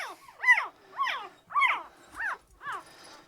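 A newborn male poodle puppy whimpers in five rising-and-falling squeals at an even pace, close and clear, while being weighed.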